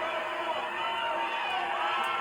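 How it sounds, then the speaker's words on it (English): A wrestling arena crowd at a 1980s Mid South/UWF match roars steadily, a dense, continuous wash of cheering voices filling the hall. "he gets the crowd roaring"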